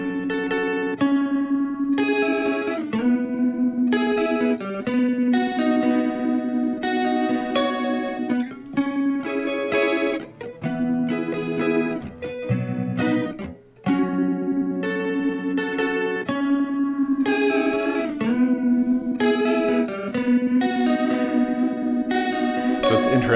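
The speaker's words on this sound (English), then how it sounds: "Let's dump chorus into the trem." An OBNE Visitor modulation pedal runs chorus into tremolo on an electric guitar, the shimmering, wavering chords pulsing steadily as the tremolo pounds beneath the chorus, played alone with no talk.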